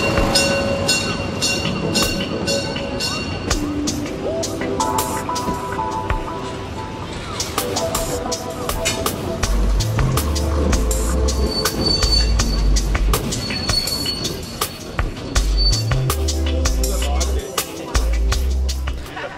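Heritage railway train running on the line from Bad Nauheim Nord to Münzenberg, with loud rumbling, rolling wheels and rattling carriages throughout, heavy low thumps later on, and music-like tonal sounds layered over the noise.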